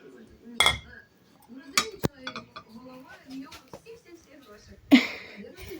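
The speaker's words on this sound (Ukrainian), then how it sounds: "І накриваємо тарілкою." Clinks and clatters of dishware as a plate is set over a jar of Carpathian drink, with a sharper knock partway through and voices talking over it.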